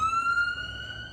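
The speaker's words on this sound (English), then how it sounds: "pardon, there's some sirens going on." A siren wails steadily outside, its tone sliding slowly upward and holding through the moment, fairly loud with low background rumble and no talk over it.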